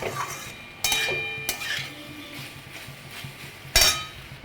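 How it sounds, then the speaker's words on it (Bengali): Food stirred in a pan with a utensil before sauce goes in, giving a few sharp metallic clinks and scrapes against the pan over a quiet kitchen background. "তো একটু নেড়ে চেড়ে নিলাম"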